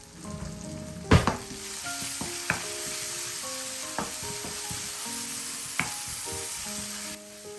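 Tomato puree sizzles and fries in a pan while being stirred for soup and pasta, a steady close crackle with occasional clinks and scrapes of the spoon against the pan, no talking.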